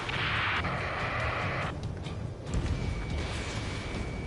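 A rocket explosion in Ace Combat 7, a heavy rumbling blast mixed with mechanical roar and rushing noise, loud and close, swelling again partway through.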